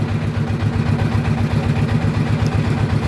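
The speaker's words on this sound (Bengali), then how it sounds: "ট্রলার চলছে" Trawler boat engine running on a river, a loud, steady low-pitched throbbing chug with a clattering mechanical rhythm that carries on without a break.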